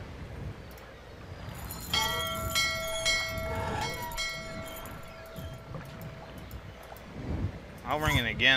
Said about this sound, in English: Pull the chain to ring the bell.